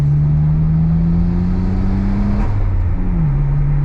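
A manual car's engine pulls steadily under acceleration, a low droning tone that rises slightly in pitch, then drops after a gear change, heard from inside the car.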